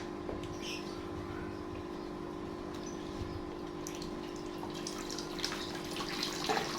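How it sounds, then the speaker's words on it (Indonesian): Water drains out through a porous potting medium for an aglaonema plant, a faint, steady trickle and patter over a low constant hum, with a few small drips near the end. "ini porus, jadi airnya bisa langsung keluar"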